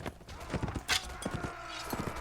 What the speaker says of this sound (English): The clanging of our horse's tackle.